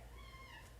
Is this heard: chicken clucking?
no